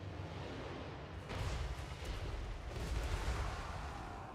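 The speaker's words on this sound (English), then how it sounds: "Warp Lightning Cannon's currently getting some decent value, just poking at the Cold One Knights and the Dark Riders for a bit" A Warp Lightning Cannon fires in Warhammer 3 in a dense, rumbling barrage of crackling blasts and booms that swell and roll continuously amid battle noise.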